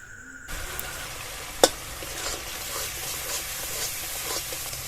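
Ground ginger and green chili paste, salt, turmeric and red chili powder sautéed in oil in a pan for a meatless 'fish' dish, a steady close sizzle with stirring scrapes and one sharp clink of a utensil.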